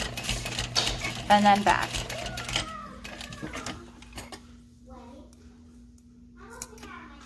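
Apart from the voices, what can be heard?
sewing machine sewing across backpack hardware, stitch length 4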